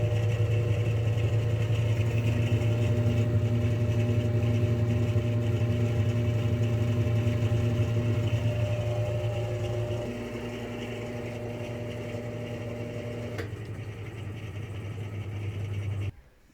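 GE stackable washer dryer combo drum spinning with the lid locked after a gear repair, a steady loud motor hum and whir with tonal drone that drops slightly partway through and cuts off at the end.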